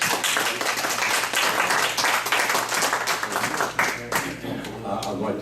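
Audience applause after speakers at a citizens' meeting, a thick burst of clapping that stays loud and steady throughout, with some voices underneath.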